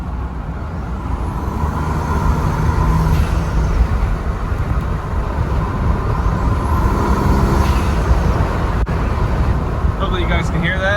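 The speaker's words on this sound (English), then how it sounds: "I'm going to see if I can get some of this turbo noise in the video." Engine and turbo noise from a Gen 2 Ford Raptor pickup fitted with a Mishimoto intake and a Borne Off-Road snorkel, a loud steady rumble with a faint whine above it, heard outdoors in the wind.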